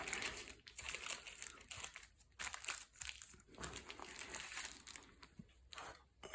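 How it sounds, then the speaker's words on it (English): Ordinary kitchen baking paper being wrapped and scrunched, a close, crisp series of crinkles and rustles in irregular bursts separated by short quiet gaps. "This is just normal kitchen baking paper."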